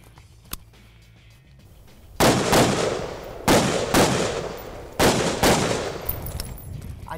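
Gunfire from a Stag Arms Model 3T tactical rifle with a long handguard: a faint early pop, then five loud, close shots in irregular spacing, each with a ringing decay, no talk.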